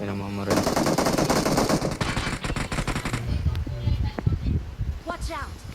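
Machine gun fire in a video game, loud rapid bursts that give way to scattered single shots and clatter, with voices talking over the action.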